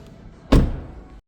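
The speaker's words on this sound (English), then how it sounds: "So now that we've had a chance to look from this side, let's shut this door." A 2026 BMW X1 M35i door is shut, giving one solid, close thud midway through a short quiet stretch, followed by a brief fading rumble and then silence.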